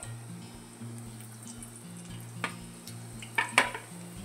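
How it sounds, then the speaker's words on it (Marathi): Lavang latika sweets deep-fry in hot oil over a low flame, giving a soft, steady sizzle with a few light utensil clinks near the end. "कमी गॅसमध्ये तळून काढायचं."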